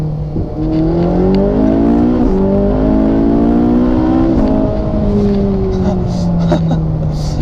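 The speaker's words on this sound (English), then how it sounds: "You cannot outdo that feeling of a Ferrari screaming with a very fast shifting transmission." A high-revving, naturally aspirated Ferrari 458 V8 climbs in pitch, with quick dual-clutch gear shifts breaking the rising whine several times, loud and close throughout.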